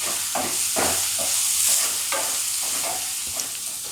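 Onions sautéing in a pan for a mutton liver gravy, a steady close sizzle with repeated soft scrapes of a spoon stirring through them, alone without talk.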